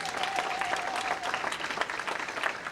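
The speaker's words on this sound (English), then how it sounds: "Give yourself a big round of applause." An audience at a benefit reception applauds, a dense and steady round of clapping from a crowd that carries on for a few seconds, with a faint tone audible under it at the start.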